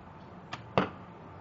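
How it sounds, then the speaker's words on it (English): Arrow from a recurve bow striking an outdoor target: a faint soft release followed by a single sharp thud of impact, short and moderately close, with nothing else around it. "This is Randy's first day of shooting a recurve bow."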